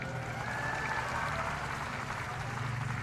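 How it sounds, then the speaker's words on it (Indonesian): Applause from an audience at a National Awakening Day ceremony in West Java, a steady wash of clapping that holds through the whole stretch, with a low murmur of voices and music-like tones underneath. "Tepuk tangan semuanya, keren"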